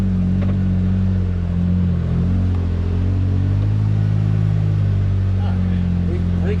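A Polaris Ranger 1500 XD side-by-side crawls over a rough, rutted trail, its engine a steady, loud low rumble that rises and eases slightly as it works through the holes.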